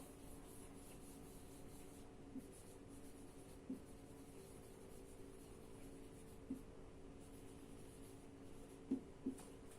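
Steady faint scratchy strokes of writing on a classroom board run continuously throughout, with a few soft taps standing out near the end, no speech over it.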